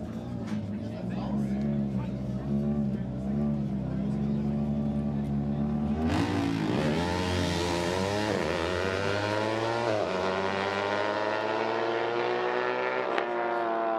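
A Yamaha and a Honda VTR Spitfire motorcycle race side by side at a custom bike event, engines droning together and then surging into a sharp rising rev near the middle, loud and close, with a commentator talking over them.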